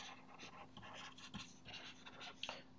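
Chalk or marker writing on a lecture board, drawing a circle around a plus sign, a few quiet scratchy strokes and taps in a faint, roomy hall.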